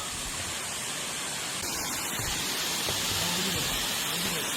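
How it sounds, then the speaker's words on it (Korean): A mountain waterfall on Jirisan, seen from a summer hiking trail near Samsinbong, roars as a steady, broad rush of falling water that fills the scene without pause. "와, 저게 폭포야, 분리폭포."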